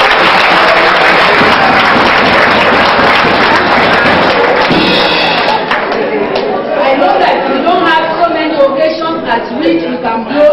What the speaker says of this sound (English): I want all the men here present to give a resounding clap for